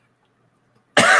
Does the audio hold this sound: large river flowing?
no